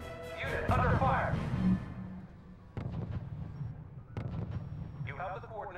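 Artillery fire in the RUSE strategy war game: a heavy boom near the start, then further sharp blasts spaced a couple of seconds apart, with a voice talking over the opening part.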